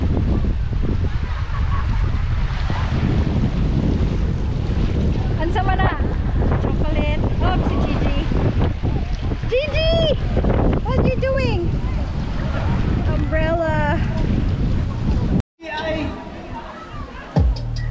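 Waves and wind at Tingko Beach, a white-sand beach in Alcoy, Cebu, Philippines, with strong wind buffeting the microphone over constant surf, while people talk throughout and a brief sharp dropout comes near the end.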